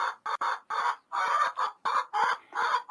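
Rhode Island Red chickens clucking close by on a morning farm in Central Oregon, a run of short, rhythmic bursts with brief gaps between them.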